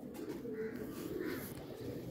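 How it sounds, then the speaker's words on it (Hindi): Pigeons kept by a Pakistani fancier coo softly and repeatedly at close range, low murmuring calls over light background noise. "ये वो कबूतर हैं जी जिनका मैंने शौक़ कराया है।"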